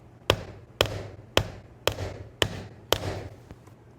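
A hammer drives nails into a wooden napkin holder, six sharp evenly spaced strikes about half a second apart, close and crisp, with no talk.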